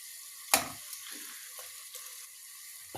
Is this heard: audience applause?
no